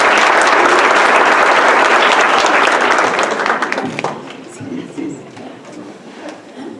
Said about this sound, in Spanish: Entonces les pido que les demos un aplauso a Javier y Ana María